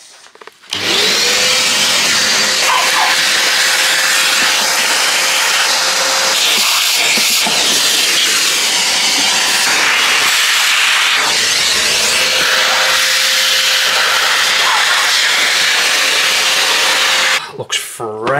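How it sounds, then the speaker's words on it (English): A vacuum cleaner runs close and loud in the boot of a VW R36, a steady motor whine lasting most of the stretch, with a short drop in pitch partway through and a brief quieter gap near the end. "We are about to hoover the hell out of the boot and do the install."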